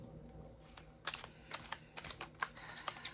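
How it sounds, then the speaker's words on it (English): Tarot cards riffle and tap in a quick series of crisp, light clicks and flutters, close by and fairly quiet, with no voices. "These cards have already been shuffled. I'll shuffle them in front of you again."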